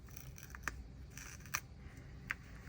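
Scissors trim a small overhanging piece of paper while making a junk journal from Christmas collage book pages, giving three crisp, evenly spaced snips up close over a quiet, faintly hissy room with no talking.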